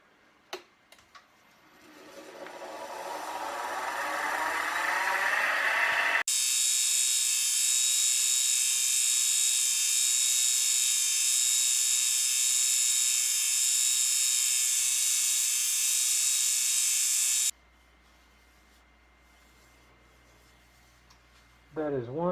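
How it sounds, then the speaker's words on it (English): A piece of solid mahogany spins on a lathe with a steady high whirring hiss from the sanding, after a motor winds up, continuing evenly for several seconds before cutting off, with speech nearby. "For the next pass of sanding, I'm going to rotate it in the opposite way to get that sanding nice and even."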